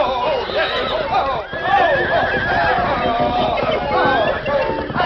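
Palomino horses neigh and whinny repeatedly, loud and close, with rising and falling cries under a busy, music-filled Western scene and hoofbeats in the background.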